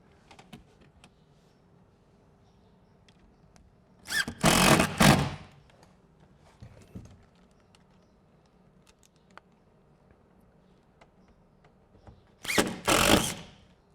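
A power drill driving lath screws into wood, two separate bursts of a few seconds each with the motor whirring up and the screw biting in, close and loud against a quiet background.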